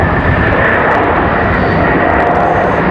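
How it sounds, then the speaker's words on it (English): An Airbus A220 jet landing at Raleigh-Durham International Airport, a loud, steady broadband engine roar with rushing air, continuous throughout and close. "Nice, a smooth touchdown for the A220."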